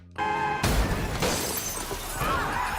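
A car slams into a bus as glass shatters: a loud crash bursts in after a brief tone, followed by sustained crunching debris and low rumble with no talk.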